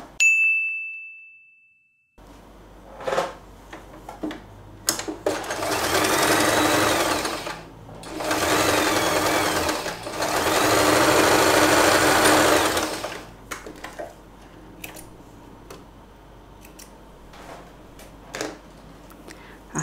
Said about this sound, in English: and sew this part